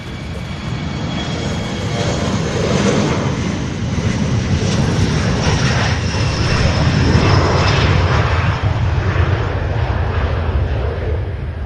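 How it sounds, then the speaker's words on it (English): Jet airliner landing on runway 17 right at Louisville International Airport, a steady, loud, broadband engine roar that swells slightly midway and holds throughout with no voices. "That's an Airbus A319, and then another 767 out of Las Vegas that will all be landing here, making their way here on 17 right."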